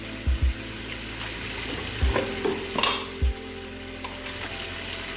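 Chopped green chillies and mutton frying in a pan for aloo gosht, a steady close sizzle with a few soft knocks and stirring scrapes, no talk.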